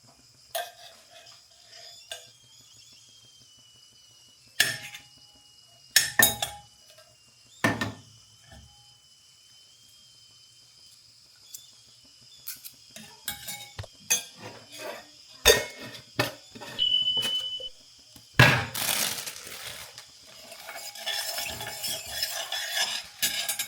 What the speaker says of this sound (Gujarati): તો અહીંયા તપેલું ગરમ કરવા મૂકી.